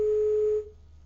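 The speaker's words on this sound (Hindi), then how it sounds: "लगता है फोन डिस्कनेक्ट हो गया है संजय जी का" A telephone line tone sounds after a call drops, a single steady pitch held loud for about half a second and then cut off, leaving faint line hiss.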